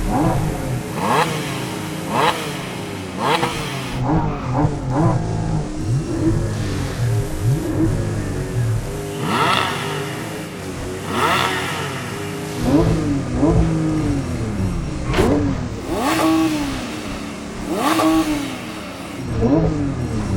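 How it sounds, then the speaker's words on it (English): A GT3 car in the Driving Empire video game revs repeatedly with the brake held, a series of sharp, loud engine revs rising and falling in quick bursts across the whole stretch with no talk. "And then rev your engine, and then you'll be able to rev to about 6."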